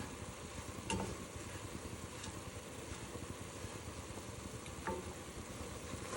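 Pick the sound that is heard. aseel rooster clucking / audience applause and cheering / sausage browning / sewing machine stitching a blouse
sausage browning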